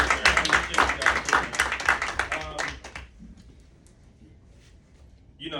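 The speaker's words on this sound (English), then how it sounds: "We'll clap it up again for those guys." An audience at a middle school awards ceremony for a young men's program claps steadily in a small room for about three seconds, then the applause stops abruptly, leaving quiet room tone.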